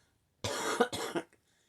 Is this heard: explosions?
no